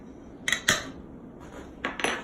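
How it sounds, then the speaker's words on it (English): A utensil scrapes and taps against a bowl while dry pie crust ingredients such as cornstarch, baking powder and salt are mixed, giving a few close clinking strokes in two brief clusters. "We're gonna mix to combine."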